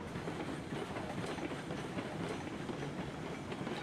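A train of boxcars rolling in the video game Railroads Online, a steady rumbling roll with faint rhythmic clickety-clack of wheels on rails, continuous and fairly quiet, with no voices.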